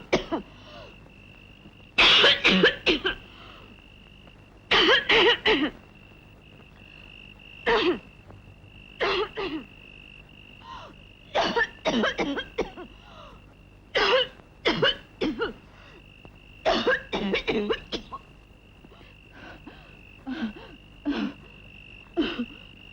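A person coughs in repeated harsh bursts, some single and some in clusters, separated by short pauses, close and clear against a quiet background with a faint steady tone.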